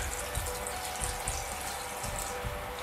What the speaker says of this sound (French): On va y rajouter de l'eau.